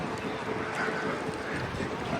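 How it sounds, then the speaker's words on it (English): Steady wind buffets the microphone outdoors in Wrocław's market square, a continuous broad roar with no talk over it. "Sorry for the wind."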